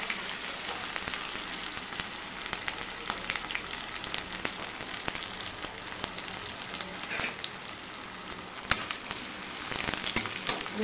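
Chopped onions and garlic frying in a pan for sambar make a dense, even crackling sizzle with faint occasional ticks of movement, steady and close for the whole stretch, with no voices.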